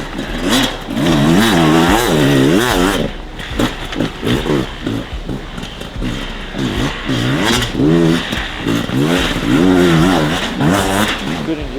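A Beta RR300 X-Pro enduro motorcycle engine revs up and down repeatedly while being ridden. The loud, close throttle blips rise and fall in pitch throughout.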